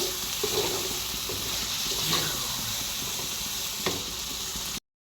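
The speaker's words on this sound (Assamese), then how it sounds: "বিলাহীখিনি এতিয়া অকণমান ভাজিম" Chopped tomatoes fry in a hot pan with chicken and potatoes nearby, a steady close sizzle and hiss with a few brief clinks, no talk, ending abruptly.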